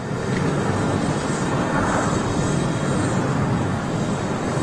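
An Emirates airliner pulls onto the runway at Schiphol for takeoff, heard from a distance as a steady, broad jet-engine roar with wind noise, loud and unbroken throughout with no talk.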